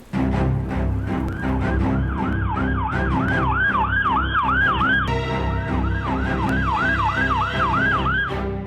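An ambulance siren wails through a lane in Malvani, its rising and falling sweeps repeating steadily and loudly over a low rumble of traffic. Partway through, the pitch pattern shifts and the wail continues without pause.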